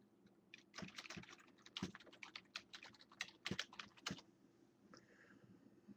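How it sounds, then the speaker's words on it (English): Quick, irregular bursts of keystrokes on a computer keyboard, fairly faint and close, with short pauses between clusters of taps and no voice. "I'm going to type this in."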